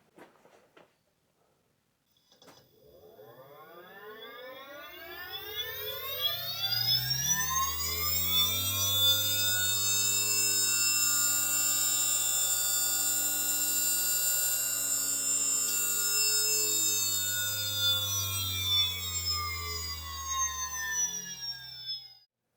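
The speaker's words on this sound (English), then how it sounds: "So next let's look at the test rig in action." High-speed RC electric motor on a test rig spins a flywheel up to about 20,000 rpm, a rising whine climbing steadily in pitch, holding a loud sustained scream, then starting to wind down at the end.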